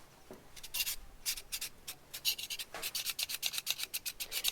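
A hoof knife for horse hoof trimming is sharpened on one side of its blade in a run of quick, dry rasping strokes, close and fairly quiet. Each scrape is short and bright, and the strokes repeat in an uneven rhythm with no talking.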